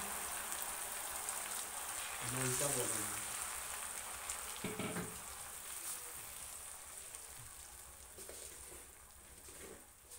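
Paste of two medium tomatoes added to browned onions for a daal mash recipe, sizzling and frying in a steady faint crackle, with brief clinks of utensils.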